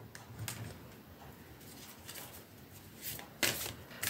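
Tarot cards being shuffled and laid out for a relationship reading, with soft papery riffles and a few sharper flicks and slaps, close and quiet, with no talking.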